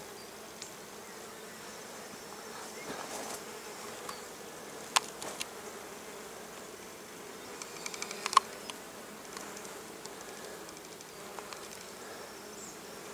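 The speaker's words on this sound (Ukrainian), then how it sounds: "бджола працює" Bees hum steadily around a frameless hive, a soft continuous buzz with occasional louder passes of single insects flying close by, no voices.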